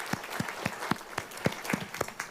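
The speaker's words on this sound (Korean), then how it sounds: "우리 감사와 찬양의 박수 올려드리겠습니다." A church congregation at a Sunday worship service claps together in a steady, fairly quick rhythm. The clapping is full and close, with no voices over it.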